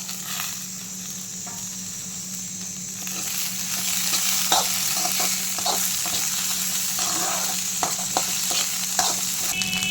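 Steady sizzling in a pan with frequent scraping and stirring taps as okra (ladies finger) is sautéed with onions, close and continuous throughout.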